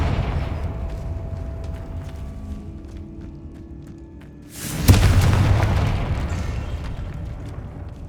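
A Confringo explosion spell in the video game Hogwarts Legacy: a low ambient rumble is broken by one sudden loud boom, followed by a rolling, crackling roar that slowly fades.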